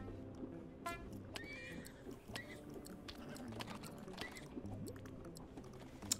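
Horse whinnies from the What The Golf video game, a couple of bright neighing calls standing out over busy game music and effects, with light clicking layered underneath.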